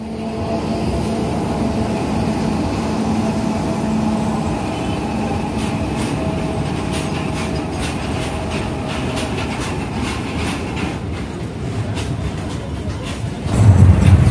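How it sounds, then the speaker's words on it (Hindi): A train approaches and passes near a railway crossing at night in Salua, Kharagpur, a loud steady rumble with rhythmic clattering building toward the end, along with background voices and traffic noise. "अभी वहां से ट्रेन आ रहा है"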